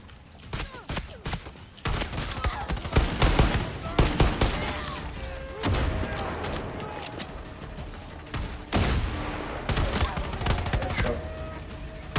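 Bursts of automatic gunfire from the video game Far Cry 6 crackle in rapid volleys with short pauses between, loud and close, while a player speaks now and then over the shooting.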